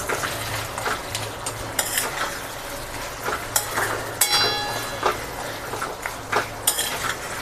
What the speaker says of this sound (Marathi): जो क्रश केलेला गुळ होता ना तो आता आपण ह्याच्यामध्ये घालूयात आणि चांगलं हलवून घेऊयात